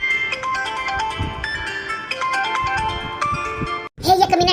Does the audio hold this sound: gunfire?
no